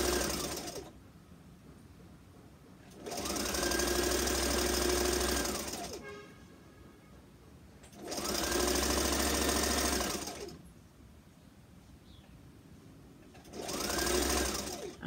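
A sewing machine stitches a fabric face mask in four short, even bursts of whirring, separated by quiet pauses, close and clear.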